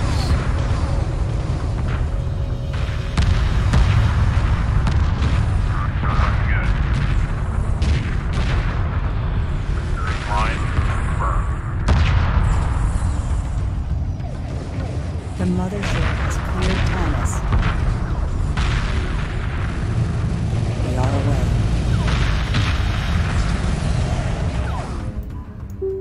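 Homeworld 2 Remastered space combat keeps up steady missile launches and explosions, a continuous barrage of heavy booms and crackling impacts over a deep rumbling bed, with occasional radio voices underneath.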